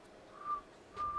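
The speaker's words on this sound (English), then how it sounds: "Whistling." A person whistles two short, high, steady notes separated by a brief pause, fairly quiet and close with no talking.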